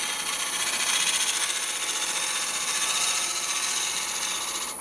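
A gouge cutting fine shavings from a maple burl bowl spinning on a wood lathe, a continuous close whirring scrape with a rapid pulsing flutter, steady throughout with no talk.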